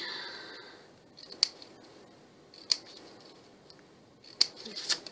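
Scissors snip scrap paper into feather shapes in a quiet room, with sharp isolated cuts spaced a second or more apart and a few soft paper rustles between them.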